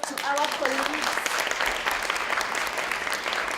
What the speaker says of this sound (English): To Malinka, to Monica of ECE, a big applause to our colleagues.